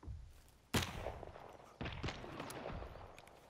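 Guns firing in The Forest video game on super hard mode give two sharp, fairly distant bangs, each trailing into a rumbling decay, with scattered softer pops after.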